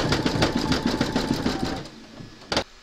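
A Brother embroidery machine stitches a Santa design with a fast, steady mechanical chatter of needle strokes, close and clear, then slows and stops with a final clack.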